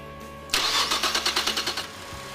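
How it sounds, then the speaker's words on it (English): A car engine cranks with a rapid rhythmic churn for about a second and a half, then catches, during a Snap-on FuelKare fuel injector cleaning service; loud and close, with no talk. "press the Start Service Start Engine button and start the engine"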